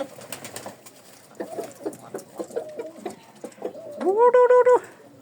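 Pigeons and chickens in a yard make a run of soft cooing and clucking calls that builds into a louder, drawn-out call near the end.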